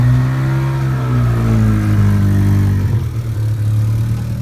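A DA Acura Integra engine revving through a short 2.5-inch pipe with a welded muffler and turndown exhaust, a loud close droning rev that rises and then settles into a rough, steady throaty note.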